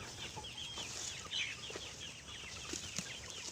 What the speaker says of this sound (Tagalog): So ito na yung mga manok natin.